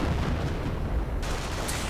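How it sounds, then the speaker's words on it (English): Sector artillery barrage in a Men of War style multiplayer strategy game, dense rumbling booms and blasts rolling continuously and loudly across the short stretch with no pauses. "And sector artillery going in."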